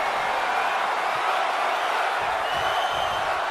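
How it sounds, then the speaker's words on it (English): Wrestling arena crowd roaring steadily throughout with a dense, sustained wall of cheering and chanting, loud and continuous with no pause. "And listen to this crowd, they're saying one more time"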